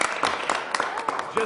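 Applause from the crowd at a 2019 emergency medicine Jeopardy quiz event, scattered hand claps over a short stretch with voices talking beneath them.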